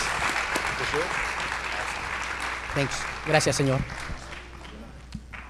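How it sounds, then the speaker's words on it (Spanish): Crowd applause at a school safety summit for a police officer and his K9 dog, a broad wash of clapping throughout with a man's brief spoken thanks in the middle. "un otro gran aplauso para el oficial Hill y el K9 Ferris"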